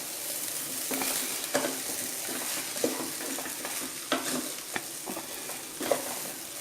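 Ingredients for kuska sautéing in a pan, a soft steady sizzle with occasional light scrapes and stirs of the spoon against the pan, close and moderate in level, with no talking.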